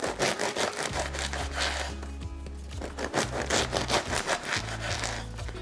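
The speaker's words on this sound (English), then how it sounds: "And since this loaf is thicker, we're just gonna cut it straight down." Knife sawing straight down through a thick loaf of bread being cut into half-inch slices for French onion soup, with repeated rasping back-and-forth strokes, close and fairly loud, with no talking.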